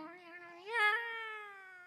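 A single cat meows in a long, rising and falling caterwaul, swelling in the middle then trailing off, close and clear against silence, as a sound effect in a figure-theatre staging of Gauche the Cellist.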